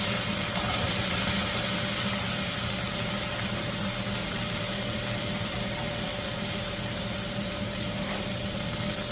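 Frozen corn hitting a hot pan that already holds partially cooked chicken, giving a loud, continuous sizzle and hiss that stays steady and close throughout, with no talking.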